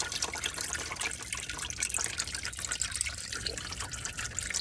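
Transmission fluid from a 2009 Nissan Altima dribbles and trickles steadily out of a loosened pan, faint and close, with no voices.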